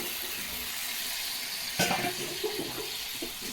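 Water is poured into a small fish curry with raw mango cooking in a pan, a steady wet rush over a sizzling background, with a brief splash partway through.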